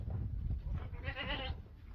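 A goat bleats nearby, a wavering nasal cry in the middle of a short stretch of low rustling outdoor noise.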